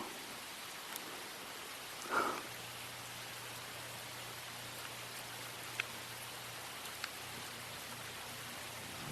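Soft, steady rain patter fills the quiet background, with a low hum and a brief louder tap or thump near the start.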